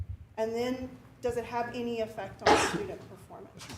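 A single sharp sneeze bursts out during a school board workshop meeting, brief and loud, cutting into ongoing speech from a presenter.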